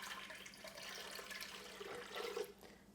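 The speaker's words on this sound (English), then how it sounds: "I'm going to add 550 grams of water." Water poured from a container into a bowl on a kitchen scale, a steady soft splashing stream that swells briefly louder near the end, then tapers off.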